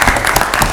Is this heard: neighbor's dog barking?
no